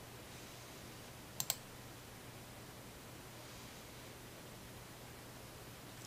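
Computer mouse double-clicked in point-of-sale software, two quick, close, crisp clicks early on against a faint steady hiss, then quiet.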